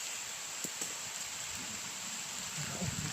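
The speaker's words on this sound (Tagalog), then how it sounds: "malakas yung ulan" Heavy rain pours down in a steady, dense wash during a sudden storm, with a few faint knocks and patters in the background.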